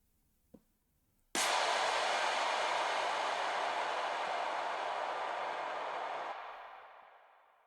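A produced impact effect in Ableton: a sharp broadband hit, then a loud sustained wash of noise that holds steady and fades out toward the end, with a small click just before the hit.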